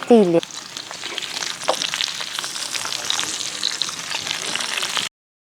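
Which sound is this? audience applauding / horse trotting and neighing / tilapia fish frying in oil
tilapia fish frying in oil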